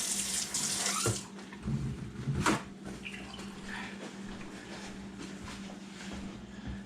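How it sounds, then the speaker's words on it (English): Tap water runs steadily into a sink during hand washing in a home kitchen, a continuous close splashing hiss with a brief louder gush near the start. "Let me wash my hands again."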